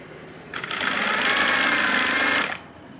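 A sewing machine runs a steady two-second burst of stitching on blouse fabric during tailoring, loud and close, with quiet room sound before and after and no talk.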